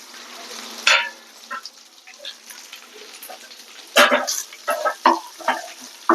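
Green beans are stir-fried in a pan in a village-style kitchen, giving a soft sizzle broken by scraping stirs and clattery tosses that grow louder and busier toward the end.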